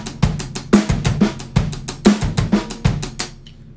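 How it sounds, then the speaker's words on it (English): Drum kit playing a funk groove with a soft ghost note on the left-hand snare between louder backbeats, busy hi-hat and kick pattern repeating steadily, close and dry, ending abruptly. "Or I could put that ghost note that's written in there and make it much quieter, and it would sound like this."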